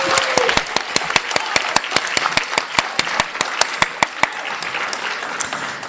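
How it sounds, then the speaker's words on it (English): An audience at a nursing pinning ceremony applauds steadily, with a few sharp, distinct claps standing out in a regular rhythm over the crowd's clapping, loud and close. "Can we give them another huge applause?"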